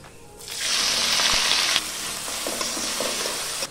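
Spices sizzle loudly in hot oil, a bright steady frying hiss that swells early and holds, then settles into a slightly softer sizzle with small stirring knocks toward the end.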